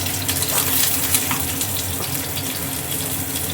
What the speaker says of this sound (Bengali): এবার আমি এর মধ্যে দিয়ে দিচ্ছি পেঁয়াজটা।